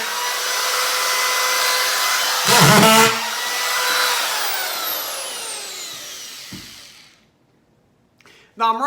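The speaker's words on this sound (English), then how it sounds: "Now I'm running drywall screws." A power drill whines steadily as it drives drywall screws in drywall installation work, its pitch winding down before stopping, with a short burst of harsher grinding midway and a clunk near the end.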